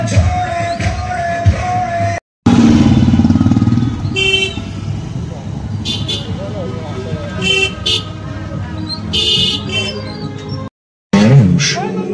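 A motorcycle carrying three riders runs steadily through busy festival-night street noise during Kali Puja, with horns tooting and people talking over it, and two brief dropouts.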